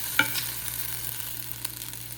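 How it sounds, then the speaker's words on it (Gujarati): Mustard seeds and sesame seeds sizzle in hot oil for a tempering, a steady close crackle with one sharp pop near the start and no talking. "થોડીક રાઈ ને તલ નાખીને વઘાર કરી દીધો"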